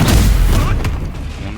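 Bombarda spell in Hogwarts Legacy erupts as a loud, heavy explosive boom, followed by a sharp crack and a fading rumbling tail.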